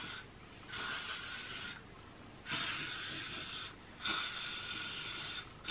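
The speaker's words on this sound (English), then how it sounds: "I'm just gonna spray loads of hairspray on it." Hairspray sprayed onto a ponytail in three long hissing bursts, each lasting about a second or more with short pauses between, close and steady with no talking.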